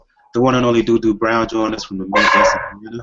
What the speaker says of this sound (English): if you hear that barking back there, that's probably Gail's dog